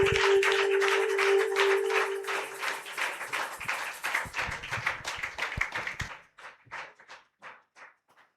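A church congregation claps in worship, a steady mass of broadband clapping with a sustained tone underneath for about six seconds, then thinning to a few scattered, fading claps.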